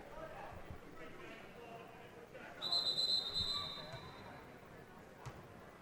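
A referee's whistle blows once in a steady shrill tone during a high school basketball tournament semifinal in a gym, heard over faint crowd murmur and ball bounces.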